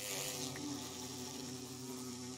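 A bee buzzes steadily in a video game, a continuous droning hum that holds at an even, fairly loud level from start to finish with no talk over it.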